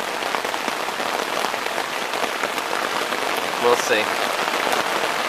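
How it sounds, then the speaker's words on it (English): Hard rain drums steadily on a tent at a campsite in a storm, a dense close patter with no let-up. A voice speaks briefly near the end. "really hard rain coming down"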